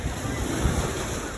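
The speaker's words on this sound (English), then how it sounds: "The waves are too loud." Ocean waves breaking on a shore during a nature walk, a dense, continuous roar of surf mixed with wind buffeting the microphone, loud and close, with no clear voices.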